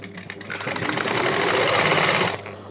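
A sewing machine stitching a ladies' pant runs in one steady, fast burst of whirring stitches for about two seconds, close and alone, then stops.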